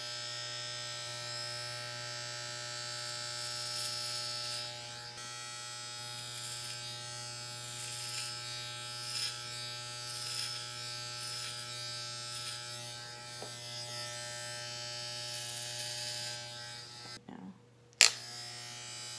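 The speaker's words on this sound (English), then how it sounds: "I'm just pointing the top of my clipper straight at the ceiling, coming right off." Electric hair clippers buzz steadily and close while cutting hair during a quick home kitchen haircut, a continuous hum with small fluctuations as they move, ending in a brief clatter.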